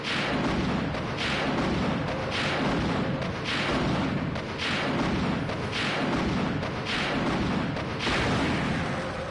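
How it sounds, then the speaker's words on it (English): Rocket launcher fire in Resident Evil 2 aimed at the giant alligator, a series of heavy booming blasts repeating roughly every second, loud and dense throughout with no talk. "you can't kill the alligator with the rocket launcher"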